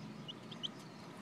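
Barred Rock chickens give a few faint, brief clucks, spaced apart over a low murmur of background noise.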